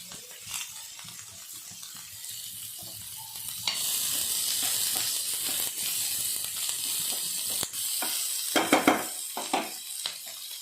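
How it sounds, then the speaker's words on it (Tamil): Chopped onion goes into a pan with green chillies and bursts into loud, close frying that holds steady, after a few quieter moments of light crackle and stirring. "கொஞ்சம் இதானோடனே ஆனியன் ஆட் பண்ணிக்கலாம்."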